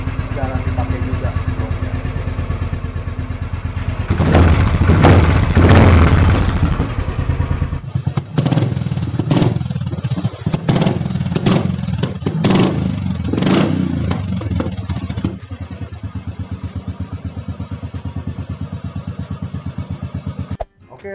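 A Royal Enfield Bullet Classic 500cc motorcycle engine thumps and revs loudly up close, then settles into a steady, lumpy idle with a clattering single-cylinder beat.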